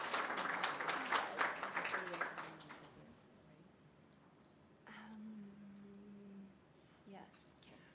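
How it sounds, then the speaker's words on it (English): A short burst of audience clapping at the Rise & Reignite 2025 conference as a doctor is welcomed to present, fading within a few seconds into quiet room tone with soft talking. "please clap for Dr. Moreno"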